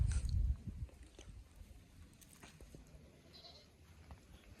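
A young ram lamb of the Mareguddi breed in Bagalkot gives a short, close bleat at the start, followed by quieter shuffling and faint farmyard sounds.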